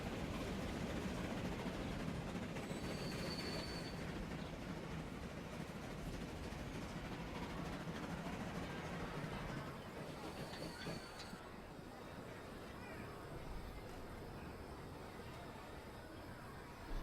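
Trains rolling along rails in the Transport Fever video game, a steady rumbling clatter with faint high squeals, continuous and fairly quiet, easing slightly after about ten seconds.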